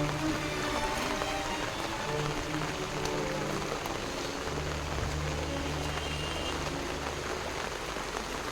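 Rain falling steadily over a village, an even, dense patter and hiss that holds unbroken throughout, with a low background hum underneath.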